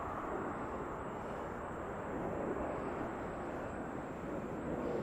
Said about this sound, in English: QF15 coming in from Brisbane.